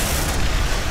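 A grenade blast in the sci-fi shooter Aliens: Dark Descent, a loud, dense rumbling boom filling the whole short moment with sustained low roar and broadband noise.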